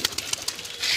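Brown pigeon cooing close by, a few soft repeated calls in quick succession followed by a brief rise of hiss at the end.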